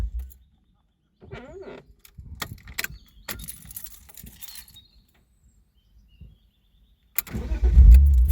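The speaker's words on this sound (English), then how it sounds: "Here it is starting now flawlessly even when hot." A warm BMW Z3 E36 with the M52 engine: keys jangle and the ignition clicks, then after a pause the engine cranks and fires up loudly and close, without talk.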